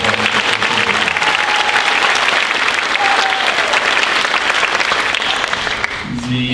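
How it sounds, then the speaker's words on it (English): A school auditorium audience at a middle school spring concert gives loud, sustained applause for band students, dense clapping that fades slightly at the end. "So a nice round of applause."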